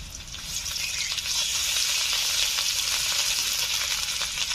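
Chopped onion with ginger and garlic paste hits hot oil for an egg masala curry, a loud bright sizzle that swells and holds steady, with faint stirring and no talk.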